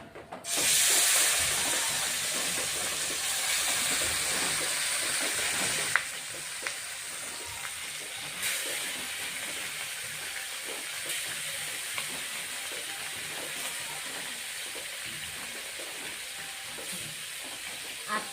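Katla fish sizzles loudly in hot oil, a steady dense frying hiss that swells at first and then settles into a continuous crackle for the whole stretch.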